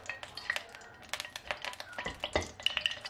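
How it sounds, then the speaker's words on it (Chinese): A small handful of Sichuan peppercorns frying slowly in oil in a wok over low heat, heard as a close series of sharp metallic clinks and scrapes with light crackling, the taps irregular and clustered throughout. "锅里烧油，加入一小把的花椒进去， 用小火慢慢的炸出香味和麻味"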